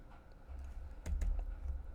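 Rapid typing on a computer keyboard, a steady stream of soft key clicks with a few sharper taps, close and alone without speech.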